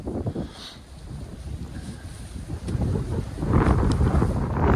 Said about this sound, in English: Wind's really starting to pick up now.